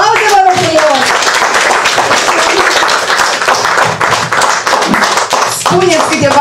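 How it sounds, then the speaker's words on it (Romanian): A family gathering at a turquoise wedding anniversary breaks into loud, dense applause, many hands clapping close and continuously, with voices and cheers mixed in throughout. "Aplauze, vă rog frumos!"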